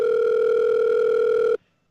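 A telephone rings in the Kirby Meta Knightmares video game, a steady, loud electronic tone held for about a second and a half, then cut off abruptly into silence.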